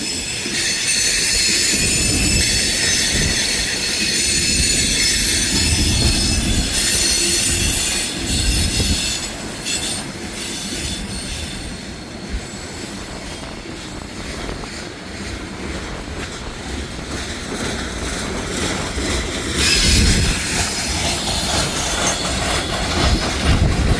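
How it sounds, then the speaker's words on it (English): A coal hopper freight train grinds past at close range, its flat-spotted wheels adding rhythmic thumping and clatter beneath sustained high squeal and heavy rumble that rise and fall over the long pass. "in every coal hopper car, there's like flat spots."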